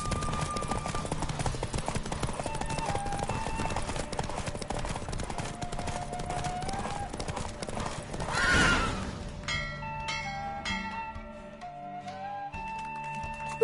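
A horse gallops flat out in a race in The Witcher video game, steady pounding hoofbeats with a brief whinny-like swell, then music takes over near the end.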